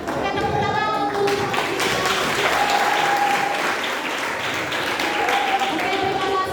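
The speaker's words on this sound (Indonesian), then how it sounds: "Oke, tepuk tangan untuk." Students applauding at a school orientation at SMA YPK Oikumene Manokwari, a loud, sustained round of clapping from a crowd of many hands, with a few sharper individual claps and brief tonal sounds mixed into the steady wash.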